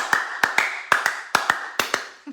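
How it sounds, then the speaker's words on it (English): A few people clap softly in a demonstration, giving about eight sharp, separate claps in a loose uneven rhythm, close by and quiet. "Look at the way they are clapping."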